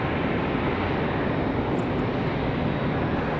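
An Airbus A321 jet airliner roars past at a windy airport, a loud, steady broadband rumble that holds without a break and has no talk over it.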